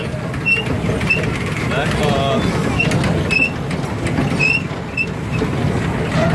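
Small tourist train rolling along with a low mechanical rumble and intermittent squeaks and clanks, heard under nearby talking voices throughout.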